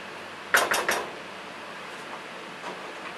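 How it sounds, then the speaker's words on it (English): Baked beans are stirred in a pot, with three quick metal scrapes close together near the start, then faint clinks afterward. "Stir it well."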